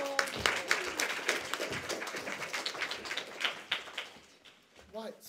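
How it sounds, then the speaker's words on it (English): A comedy society audience applauds an improv troupe being welcomed on stage, a dense burst of many hands clapping that thins out toward the end, with a voice briefly heard at the close. "Clap them up, everyone."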